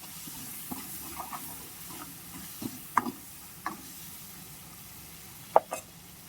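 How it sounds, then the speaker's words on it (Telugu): Ginger garlic paste and green chillies fry in oil with a faint steady sizzle, broken by occasional spoon scrapes and taps against the pan, a few of them louder and sharper. "అల్లం వెల్లుల్లి పేస్ట్ పచ్చిమిరపకాయలు పోయేంత ముందు వేయించుకోవాలి"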